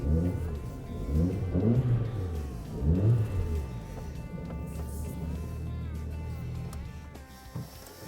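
A Volvo V50's engine revs and rumbles up close as the car is repositioned, with rising and falling surges early on settling into a steady idle-like drone, then a brief thump near the end.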